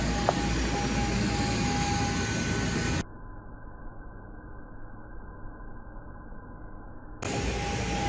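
Steady broadband airplane engine roar at an airport during boarding in Faro, Portugal, loud and continuous with a muffled, quieter stretch in the middle before the full roar returns; no talking.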